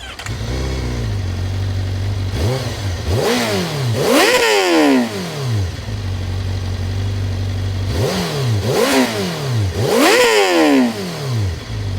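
A Honda CBR1000RR sport motorcycle engine idles, then revs hard in repeated sharp throttle blips, the exhaust note rising and falling loud and close, twice in clusters.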